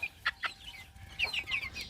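Short bursts of clucking and high peeping from hens and chicks, close by and brief.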